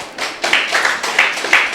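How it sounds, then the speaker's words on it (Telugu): A small group claps after a devotional meditation song, a close, steady patter of hand claps with louder bursts every half second or so. "క్లాప్ సరిపోలేదు"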